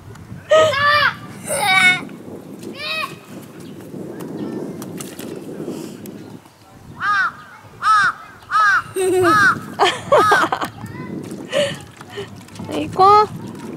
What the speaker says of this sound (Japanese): あ、ほらまたカラスが狙いに来てるよ